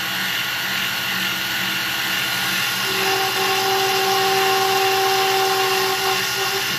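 A power tool cuts into a stainless steel and brass ring, producing a steady loud whirring grind whose tone shifts partway into a sustained high ringing whine as the cut deepens.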